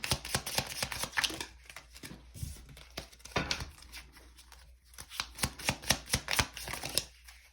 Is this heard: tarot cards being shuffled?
yes